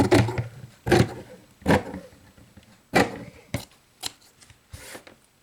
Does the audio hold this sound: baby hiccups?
no